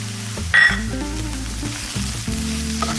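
Grated coconut frying in a pan for Kerala-style kadala curry masala, a steady close sizzle with a brief louder burst of stirring or scraping near the start.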